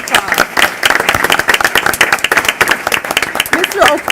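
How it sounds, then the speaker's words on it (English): A school audience applauds a chess club teacher at an event in Chicago, with steady, dense, close clapping from many hands sustained throughout and a few cheers mixed in. "let's give Mr. O'Cool a round of applause."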